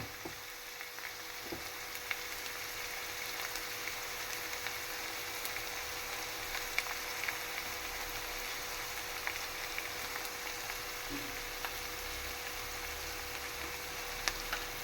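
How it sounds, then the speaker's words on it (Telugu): Onions frying in a pan give a steady, soft sizzle and crackle that runs evenly throughout, with no voices. "ఇదిగో ఆనియన్స్ అయితే వేగుతాయి, ఇంకా వేగాలి"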